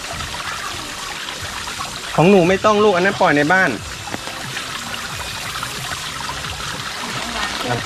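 Water trickles and pours steadily from a garden waterfall pond with a leak, a continuous wash beneath a child's and adults' voices, with a louder burst of speech in the middle.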